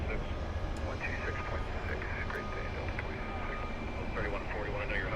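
Airliner taking off down a long runway at Phoenix Sky Harbor International Airport, a steady distant roar of jet engines holding through the whole stretch, with people talking over it.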